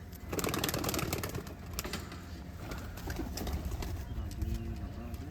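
An old-breed pigeon on a village rooftop loft cooing in low repeated rolling notes, near and fairly faint, with fluttering and rustling around it and no talk.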